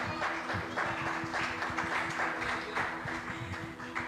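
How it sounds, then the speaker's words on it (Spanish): Church congregation clapping during an evening service, a lively rhythmic patter of hands over a sustained musical tone, with no talking on top. "Esto se merece un aplauso, iglesia."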